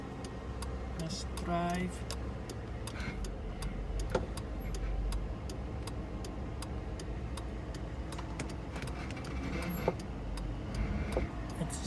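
Car hazard lights click in a steady, even rhythm, faint and close inside the cabin, over a low idling engine hum, with a voice speaking briefly.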